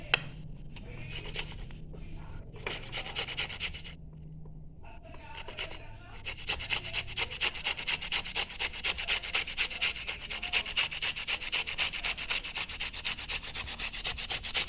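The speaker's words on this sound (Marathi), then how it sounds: "आता आपण किसून घेऊया" Boiled potatoes and beetroot being grated by hand: sparse scraping strokes at first, then a dense, steady run of rhythmic rasping close by.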